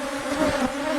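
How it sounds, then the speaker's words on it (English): A swarm of honey bees buzzes loudly and continuously close by during an open hive inspection, a dense steady drone. "Take a look at the number of bees flying. It's hard for us to hear each other talk from the sound"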